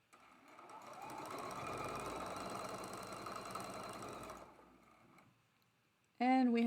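A sewing machine runs steadily while stitching traditional quilt blocks, a close, continuous mechanical whir for about four seconds that slows and stops, followed by quiet and then a brief burst of voice.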